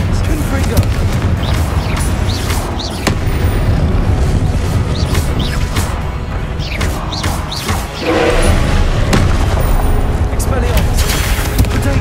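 Confringo blasting spells in Hogwarts Legacy burst with a rapid series of loud explosive booms and crashes amid constant combat noise, while a voice shouts over the top.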